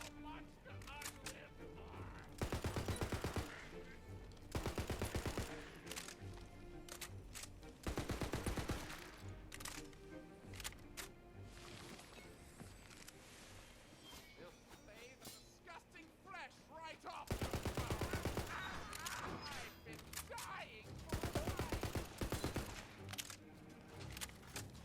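Bursts of rapid gunfire from fire-effect weapons in the video game Tiny Tina's Wonderlands come in several loud volleys separated by quieter gaps, with game sounds and talk in between.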